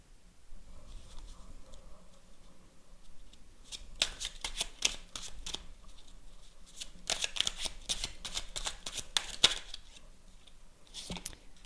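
Tarot cards shuffled by hand in repeated riffling bursts, crisp and close, with quieter handling between bursts and no talking.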